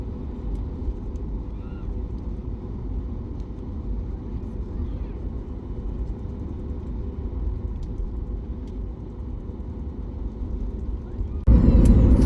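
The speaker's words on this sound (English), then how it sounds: "As our flight started taxiing towards the runway for takeoff" Inside a passenger airplane taxiing toward the runway for takeoff at Singapore Changi airport, a steady low engine rumble that swells suddenly louder near the end.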